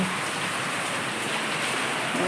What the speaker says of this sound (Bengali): দেখছেন বাইরে কেমন বৃষ্টি পড়ছে কত বৃষ্টি